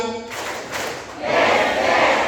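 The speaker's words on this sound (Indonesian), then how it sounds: "Maaf, yuk sekali lagi, tepuk dua." A teachers' training audience responds together at a prompt, a broad crowd burst of clapping and voices rising after a brief tonal sound at the start, loud and close for about two seconds.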